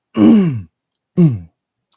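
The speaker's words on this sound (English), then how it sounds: "excuse me while fucking clear my throat" Two short, harsh throat-clearing bursts close to the mic, separated by a brief silence, with a tiny click at the end.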